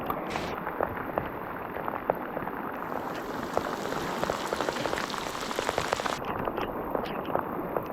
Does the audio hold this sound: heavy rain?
yes